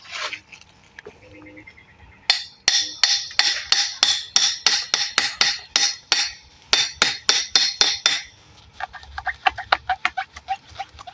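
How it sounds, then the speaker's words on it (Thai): A rapid series of sharp metallic hammer strikes driving a nail into the rim of a plastic water bottle, about two dozen hits in a steady rhythm, close and loud, with a few lighter taps before and after. "แล้วก็เอาตะปูเนี่ยตอกริมริมขวดน้ำนะครับ"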